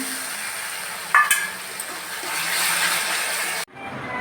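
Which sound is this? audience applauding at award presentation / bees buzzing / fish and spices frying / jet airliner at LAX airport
fish and spices frying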